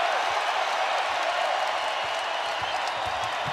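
Basketball arena crowd in a Spurs versus Nuggets game rising to its feet, a dense continuous roar of cheering and applause, loud and unbroken throughout.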